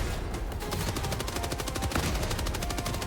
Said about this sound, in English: Please stop firing lasers at me.